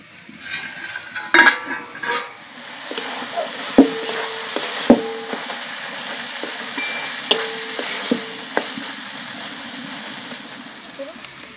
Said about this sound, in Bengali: ঢাকাটা খুলে শিমটা একবার নেড়ে নেব